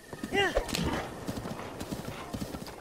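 The horse Flunz in Zelda Breath of the Wild, hooves clip-clopping in a quick rhythm with a brief whinny near the start, while someone talks over the gameplay.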